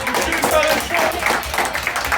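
Crowd clapping at a No Ring Wrestling show, a brisk uneven patter of hands under a loud voice talking over the applause throughout.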